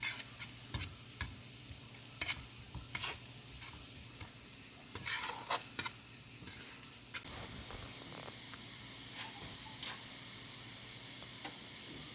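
Garlic sautéing in melted butter over medium heat, a faint low sizzle with frequent light clicks of a utensil stirring the pan, quieting to a gentle steady hiss.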